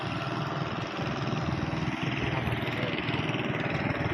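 A farm tiller's motor drones steadily and loudly while plowing a muddy rice field, a continuous close engine rumble with no pauses.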